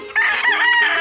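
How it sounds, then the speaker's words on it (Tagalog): Rooster crowing at a chicken coop: one close, loud, drawn-out crow with a strained, wavering pitch, sustained for about a second with no talking over it. "Mga manok dito. Mga alaga namin."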